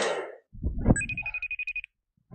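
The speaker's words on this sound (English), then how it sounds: "The phone is ringing." A telephone rings in a steady electronic pattern of about ten short, evenly spaced tones, preceded by a rustle and a thump, with no talk over it.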